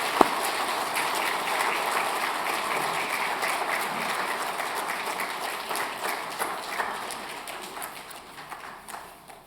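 A church congregation applauds two young new members during a Sunday service, a dense, steady round of clapping that slowly fades toward the end.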